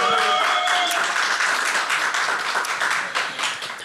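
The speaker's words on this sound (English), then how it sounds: "Give us a round of applause" Live studio audience at an Edinburgh Festival programme applauds, a dense wash of many hands clapping loudly and steadily for about four seconds, with faint tonal sounds early on and no speech.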